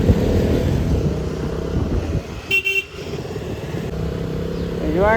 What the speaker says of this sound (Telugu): బెంగళూరు ట్రాఫిక్.